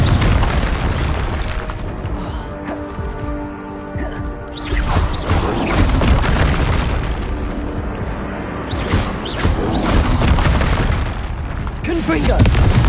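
Fiery spell blasts in a Harry Potter game, loud booming explosions landing one after another over a dense, roaring din, with a voice shouting over them.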